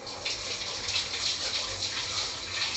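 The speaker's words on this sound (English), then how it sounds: "I'll wash my hands." Tap water running steadily while hands are washed in a kitchen, a continuous close splashing rush with slight fluctuations and no talk.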